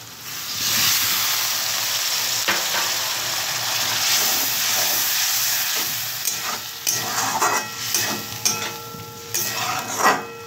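Bitter gourd (karela) fries in a pan with salt, making a loud, continuous sizzle at first that turns into choppier stirring and scraping with metallic clinks toward the end.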